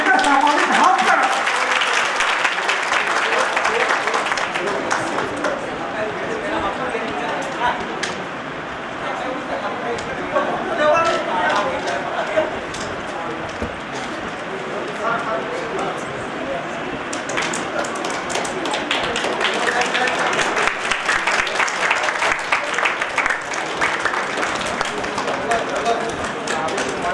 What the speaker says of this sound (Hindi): तो हम आमंत्रित करें चाहिए जोरदार ताली के साथ अपन विभाग का अध्यक्ष डॉक्टर हरि उरांव